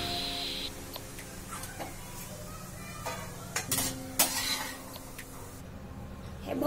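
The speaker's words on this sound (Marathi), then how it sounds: "हे बघू शकता काजू तांबूस रंगावर कसे तळून घेतलेले आहेत।" Cashews frying in hot oil for a Maharashtrian chivda, with a soft steady sizzle, scattered metal scrapes and spoon clinks against the pan, and a few louder knocks near the middle.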